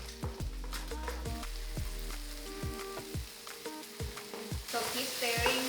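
Egg scrambles in a hot pan with vegetables at a Thai cooking class, a soft sizzle broken by repeated sharp spatula knocks and stirring, with the frying growing brighter at the end.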